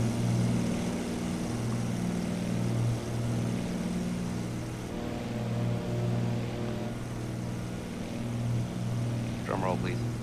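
Steady low droning propeller airplane engine hum during flight in a flight simulator game, continuous and fairly loud throughout with a brief higher chirp near the end.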